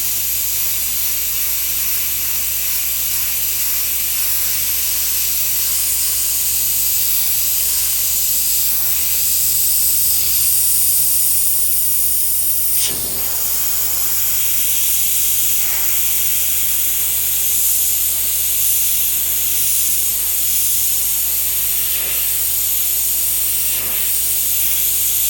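Airbrush spraying paint onto a motorcycle side cover to paint a smoke skull, a steady close hiss that continues throughout with slight changes in pressure.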